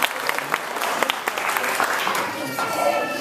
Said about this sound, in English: A round of applause, bartenders, all that